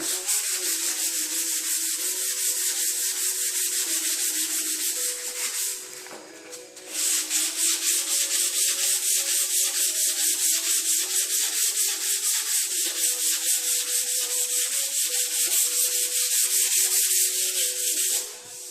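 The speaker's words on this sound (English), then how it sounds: "This 180 doesn't cut near as fast as the 80, so you just have to be patient during this step and just sand until you get it." Hand sanding of a 2010 Honda Civic sedan fender with 180-grit sandpaper, close, loud rhythmic back-and-forth rasping strokes that pause briefly midway and then continue steadily.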